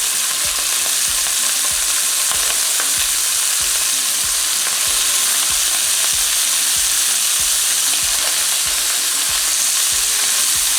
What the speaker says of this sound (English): And then I'm just going to drop the shrimp in the pan.